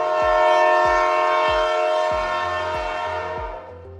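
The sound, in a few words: Lagos Blue Line train ride from Marina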